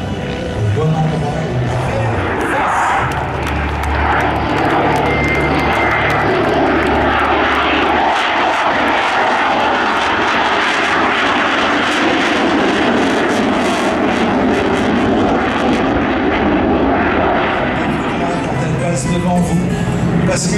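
A propeller airplane flies past at the La Ferté-Alais airshow, its engine a loud, continuous drone that swells and fades over about twenty seconds, with the crowd and a commentator faintly underneath.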